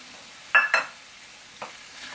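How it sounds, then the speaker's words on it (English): Chopped tomato tipped into eggplant curry frying in a pan, giving two quick bright sizzling bursts, then a smaller crackle and a faint simmer in an otherwise quiet kitchen. "Now we want to add chopped tomato, a full chopped tomato into the mix."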